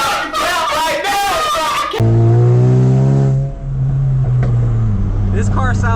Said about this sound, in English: This car sounds fucking good to me